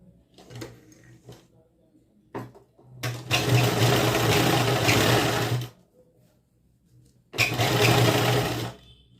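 A sewing machine stitches the neckline edge of a kurti in two bursts, a long whirring run of about three seconds and a shorter one later, with small handling clicks in between.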